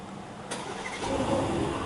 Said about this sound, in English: 4-liter V8 comes to life